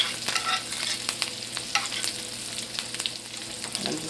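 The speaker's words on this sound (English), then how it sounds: "See the butter is foaming up. Put my herbs on top of it." New York strip steak sizzling in foaming butter with herbs in a skillet, a steady close crackle broken by regular sharp pops and spatters throughout.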